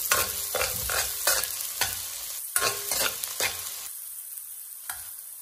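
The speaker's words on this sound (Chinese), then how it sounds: "油热之后，把葱蒜和辣椒倒下来，开中小火翻炒，" Scallion, garlic and chili stir-fried in hot oil over medium-low heat, loud close sizzling broken by quick rhythmic spatula scrapes and tosses, easing off into a softer sizzle near the end.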